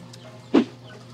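A single short cluck from a white chicken on a farm in Cebu, heard close over faint background noise, with no talk.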